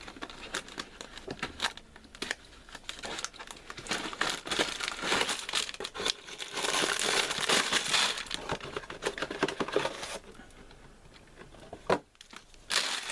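Plastic packaging of a LEGO Star Wars set being torn open, with parts bags crinkling and crushing in continuous close, busy rustles that swell in the middle and thin out toward the end.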